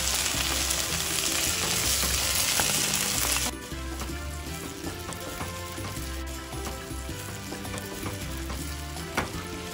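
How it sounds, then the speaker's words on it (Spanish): Chicken broth poured into refried beans in a hot pan sends up a loud burst of sizzling and frying, which drops sharply after a few seconds into a steady, softer bubbling sizzle. "Voy con mi caldo de pollo."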